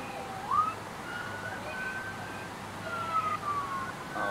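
Siren wail heard through a voice-chat microphone, with rising and falling tones that sound thin and compressed under a steady background hiss, moderately loud with no clear speech.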